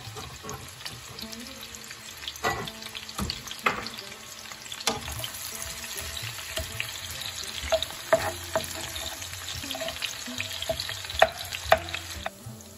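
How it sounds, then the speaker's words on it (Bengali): Onions frying lightly in a pan in a home kitchen, a steady close sizzle with intermittent stirring and scraping, plus some running water and faint clatter in the background. "আগে পেঁয়াজটা একটু অল্প করে ভেজে নিয়ে কাঁচা গন্ধটাকে দূর করে নেব।"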